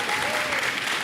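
A dense crowd at an esports match claps and cheers loudly and steadily, a thick wash of applause with no break.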